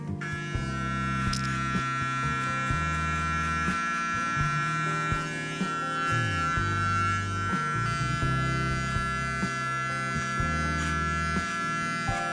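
A Panasonic electric beard trimmer set to 4 mm works through a full beard, its steady close buzz and hum running continuously with slight shifts in pitch as it moves across the hair.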